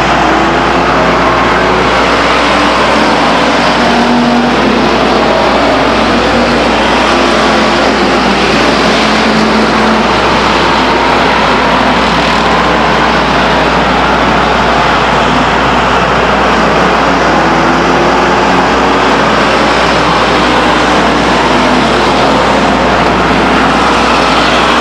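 Race cars roar around Stockton 99 Speedway, a loud, continuous engine drone from a pack of cars at speed, steady and unbroken throughout with no voices.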